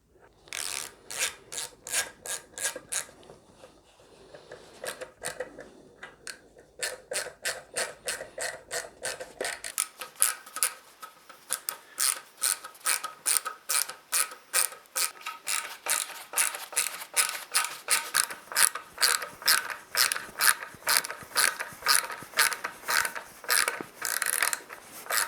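A screw is driven by hand to fasten the tailpiece onto a Rickenbacker 620/12 twelve-string guitar, producing a long series of close, rhythmic ratcheting clicks and scraping turns that grow steadier and louder.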